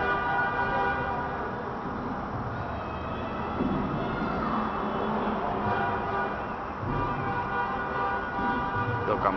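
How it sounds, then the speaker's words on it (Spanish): Many car horns blare together in long, overlapping honks as football fans celebrate a championship win, a continuous noisy din under someone talking. "Tocan bocinas porque un equipo de fútbol gana un torneo."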